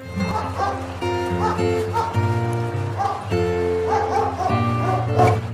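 Dog vocalizations, short yips, barks and a whimper, repeat over an upbeat children's phonics song, the music steady and prominent beneath them.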